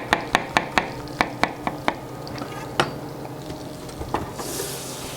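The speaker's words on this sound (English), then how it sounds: "So you want to cut them all to about the same slice." A knife slicing shiitake, baby bella and portobello mushrooms on a cutting board gives a quick run of sharp, close taps, then a few slower, spaced cuts before trailing off.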